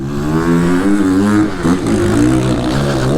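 A Surron Ultra Bee electric motorbike rides a motocross track at MC Berthouville, a loud, steady motor whine with rising and falling tones as the rider varies power, close and continuous with no talk.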